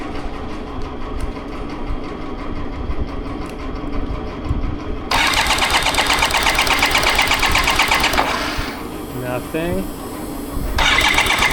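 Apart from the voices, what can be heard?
BMW K75RT motorcycle engine cranking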